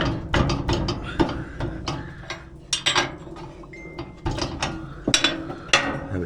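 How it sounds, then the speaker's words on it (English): Metallic clicks, knocks and ratcheting from a 24mm spanner cracking bolts loose on a new log processor, a series of sharp irregular clanks close by with short pauses between them, no voice. "Just go with 24mm spanner. I'll just crack these off."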